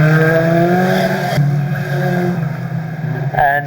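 Banger stock cars race around an oval, engines roaring loudly with harmonic revving that dips after a gear change, then a sharp burst of engine and tyre noise near the end.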